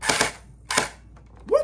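An MP5 gel blaster shoots gel balls into a box, two short bursty pops spaced apart, followed by a brief squeaky sound at the end.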